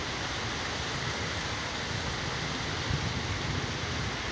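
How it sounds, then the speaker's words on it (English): Heavy rain pours steadily on a porch in Georgia, wind adding a dense, even roar that holds at a constant level throughout with no voices. "Yeah, wind blowing, it's raining hard."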